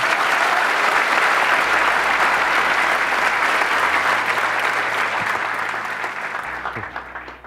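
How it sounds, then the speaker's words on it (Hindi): A large audience applauds at a motivational talk, a dense, sustained round of clapping that fills the space, then thins and fades toward the end. "ताली किस लिए बजाई है?"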